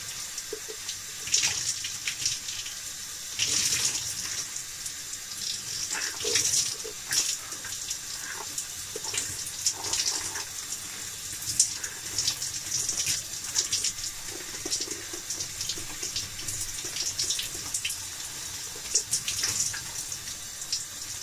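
Water from a shower runs steadily and close by, a continuous hissing spray with small splashes and shifts in flow as it hits a body and surfaces, with no talking.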